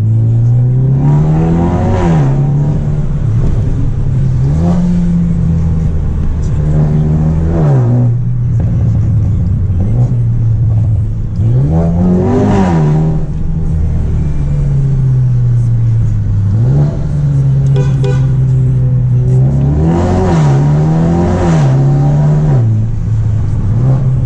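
A Mercedes A35 AMG hatchback engine, Stage 2 remapped to 400 hp with a downpipe, revs repeatedly, rising and falling in pitch with each press of the throttle, loud and close with a steady idle in between.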